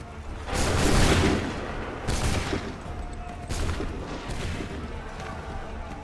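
Musket volleys crack across a Lexington and Concord battlefield in Assassin's Creed 3, with a big layered volley followed by scattered shots and smaller bursts. Shouted commands sound faintly beneath.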